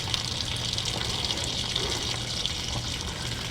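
Water runs steadily from a hose into a 63-gallon tank at a campground, a continuous close rushing fill with no talk.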